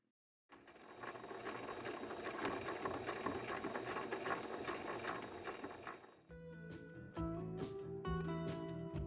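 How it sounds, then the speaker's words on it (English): A sewing machine stitches along the boxed corners of a fabric tote bag, running in a steady mechanical whir for about six seconds. After a brief pause it restarts with a clicking, ratcheting rhythm, close and clear. "Sew along the line on the boxed corners."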